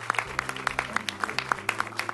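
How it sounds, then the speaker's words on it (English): Audience applause after a film Q&A, sparse individual claps sounding close and distinct over a low hum, with a voice murmuring underneath. "I think we can give you a round of applause."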